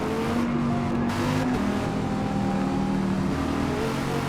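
A race car engine in the game Forza Motorsport pulls away from the pit lane on medium tires, a steady loud droning hum that holds throughout with no talking.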